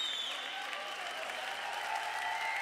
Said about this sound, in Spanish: Un aplauso mucho más fuerte para despedir estos temporales musicales.